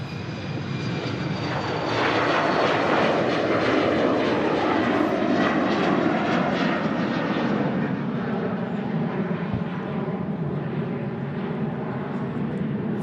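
An Embraer jet airliner passes near an airport heading to Helsinki, a loud sustained roar and whine that swells and then slowly shifts in pitch as it goes by.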